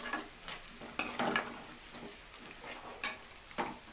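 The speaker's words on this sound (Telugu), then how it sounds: "ఇలా వేయాయి కదా, దీంట్లో కరివేపాకు వేసేసుకోవాలి. ఈ కరివేపాకు కూడా కొంచెం లైట్గా వేగిన తర్వాత మనం టమాటా యాడ్ చేసుకుందాం." Curry leaves crackle and sizzle in hot oil in a pan while cooking an aloo egg masala curry, with a steady frying hiss broken by a few sharp spatula scrapes and stirring clanks, close up and with no talking.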